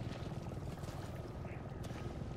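Helicopter in the video game Resident Evil 7, a continuous low rotor thrum with airy noise that stays fairly loud and even from start to finish.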